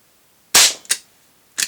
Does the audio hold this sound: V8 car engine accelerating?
no